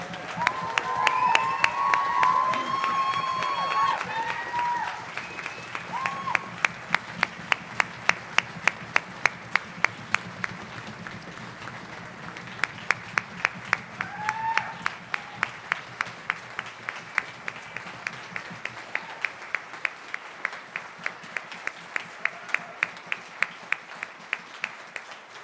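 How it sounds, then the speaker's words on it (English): Stadium crowd applauding the senior class of 2023 at a high school marching band performance, sustained rhythmic clapping that settles into steady unison beats, with some scattered cheers early on. "let's give them a big rousing Sounds of the Stadium applause"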